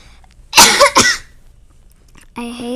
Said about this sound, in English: why am I coughing into the microphone?